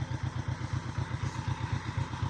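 A Polish-made 'Bober' motor vehicle pulling away on a rural plot after potato planting, its engine chugging in a steady, fast pulsing rhythm, loud and close, with no talk over it.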